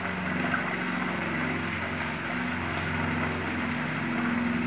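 A single-phase 220-volt, one-third horsepower motor runs on an off-grid solar battery system, producing a steady, continuous hum with no change in level and no voices.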